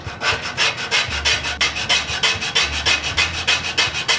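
A hand rubbing block scrubs rust off the steel blade of a Disston #28 saw in quick, even back-and-forth rasping strokes, close and alone with no talking.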